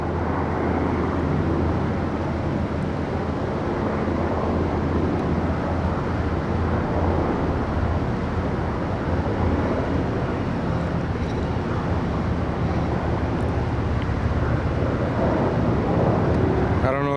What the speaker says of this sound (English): See the identification of the helicopter from here.